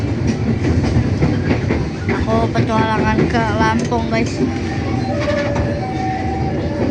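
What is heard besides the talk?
riding a KRL commuter train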